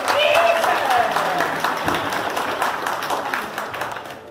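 Applause from the audience at a golden wedding anniversary ceremony held in a church setting, a steady wash of many hands clapping that fades gradually, with a voice sounding over it near the start.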